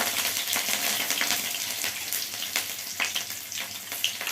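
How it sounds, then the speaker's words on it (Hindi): Green chillies hitting hot oil already holding cumin seeds and bay leaves, a steady close sizzle with crackling pops throughout, no voices. "अब हरी मिर्च को इसमें डाल देंगे।"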